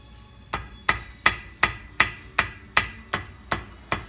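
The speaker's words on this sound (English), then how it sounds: "now I used the round part of my hammer" A hammer's flat face lightly taps along the outer edge of an engine gasket during a Jacobsen engine rebuild, ten crisp evenly spaced strikes at close range with no talking.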